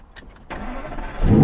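A car engine cranks and fires up, settling into a loud, rumbling idle that swells toward the end.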